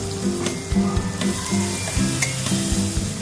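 Tomato and green chili paste frying in a pan for a fish curry with potato and eggplant, a close steady sizzle with rhythmic spoon scrapes and taps repeating roughly every half second.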